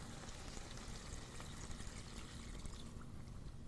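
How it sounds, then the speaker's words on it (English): Hot water pours steadily into a pot of beans for a Greek dish, a continuous splashing, gurgling wash of sound close up with no talking. "you need to cover your beans with some hot water"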